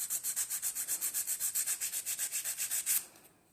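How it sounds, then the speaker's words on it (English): Sandpaper of 100 grit rubs in steady rapid back-and-forth strokes, about six per second, a close scratchy rasp that runs for three seconds and then stops, with no voices. "I'm using 100 grit to do this bit with."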